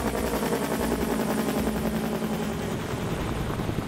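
A firefighting helicopter flies during a fire-suppression water-drop training run, giving a loud, steady rotor chop and engine drone with a fast, even beating rhythm throughout.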